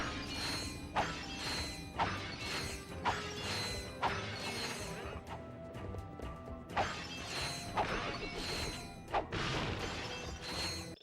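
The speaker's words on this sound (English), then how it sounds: "Quickly smash all the lights for more bolts." Lights being smashed for bolts in the video game Ratchet & Clank: Going Commando, a run of repeated crashing, mechanical clanks and breaking hits in a steady rhythm, loud and alone with no talk.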